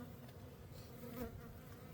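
Honeybees buzz around an open hive frame at an apiary, making a steady, close, dense drone throughout with no pauses and no talk.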